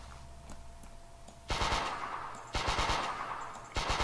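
Three bursts of rapid automatic gunfire from a third-person shooter game, each a loud rattling volley lasting about a second, separated by brief quiet gaps.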